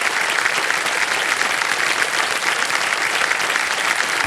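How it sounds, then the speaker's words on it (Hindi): Studio audience on a TV quiz show bursting into loud, dense applause, sustained and even for several seconds. "आपका तालियां बज जाए उनके कंपेनियन के लिए।"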